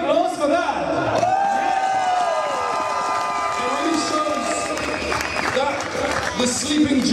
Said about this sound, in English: A big applause for that!